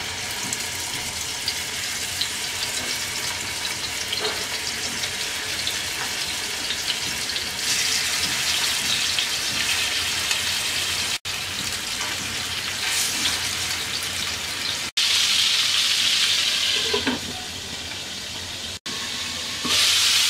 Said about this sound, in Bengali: তেলটা গরম হয়ে গেছে, চিকেন দিয়ে দিচ্ছি।